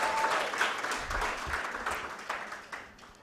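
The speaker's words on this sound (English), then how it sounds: "Clap for them as they come to the stage." A university competition audience claps as trophy-winning teams head to the stage, a steady moderate round of applause with a few sharper individual claps, slowly tapering off.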